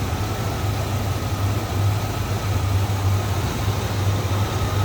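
A 1991 Lincoln Mk VII LSC with the Ford 5.0 liter 302 V8 idles steadily, a smooth low rumble with a constant hum, close by and alone.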